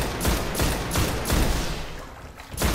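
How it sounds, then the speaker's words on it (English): Gunfire in the Destiny Nightfall strike The Nexus, with several sharp shots spaced roughly half a second to a second apart over a noisy game soundscape, consistent with sniper rifle fire. "Oh, that's a sniper dude."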